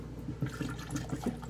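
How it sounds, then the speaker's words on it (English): A drink poured from a pitcher into a glass, a brief close liquid gurgle and splash lasting about a second and a half. "You get your glass and pour that in"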